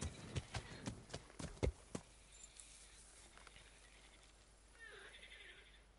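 Horse hooves clip-clop in the video game Kingdom Come: Deliverance, a quick run of sharp, loud hoofbeats for about two seconds, then fading into quiet ambience with a faint snort near the end.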